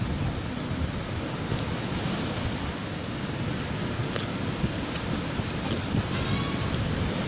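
Strong wind and surf at the sea, a loud, steady broadband roar of gusting wind and breaking waves that stays constant and close throughout, with no voices.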